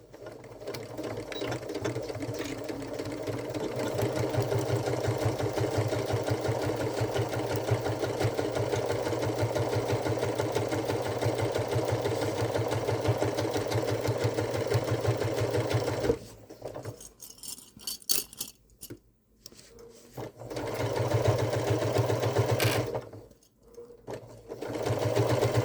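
A sewing machine runs steadily, stitching a 3/8-inch seam on the fabric pieces of a Halloween treat bucket. The rapid, even needle hum goes on for a long stretch, then stops and restarts in short bursts.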